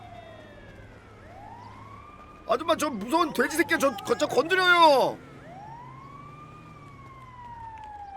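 Police siren in the video game GTA 5, a wailing tone sweeping up and down through the game mix, while someone shouts excitedly over it in the middle stretch.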